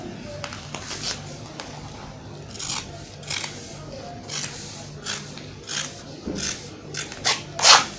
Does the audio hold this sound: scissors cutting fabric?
yes